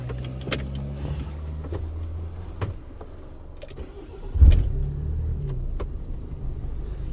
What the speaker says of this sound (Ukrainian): І зараз ми цей автомобіль вам заведемо.